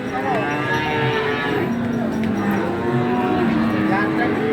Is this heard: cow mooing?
yes